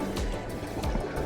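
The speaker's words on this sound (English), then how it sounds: "I love when it splashes like that." Water sloshing and splashing against the hull of a sailboat under way on cold open water, a few irregular close splashes over a steady rush, no clear talking.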